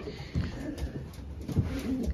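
Racing pigeon hens coo softly inside a loft, with low murmuring calls over a faint hum of background noise.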